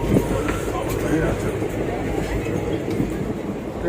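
A passenger train runs along the rails, heard from inside near a window seat as a steady, continuous rumble and rattle, with voices mixed into the noise.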